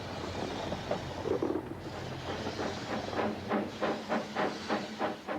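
A Talyllyn Railway steam train, with steady hissing steam and rhythmic chuffing beats that grow more distinct toward the end, moderately close and without voices.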